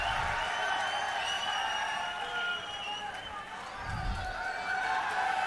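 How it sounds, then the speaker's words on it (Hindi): Audience applause at a political rally in Moradabad, a broad wash of clapping from a large crowd that swells and dips, with someone speaking over it on a public address. "आप अपनी भावनाएं तालियों के माध्यम से मंच तक पहुंचाते रहिएगा।"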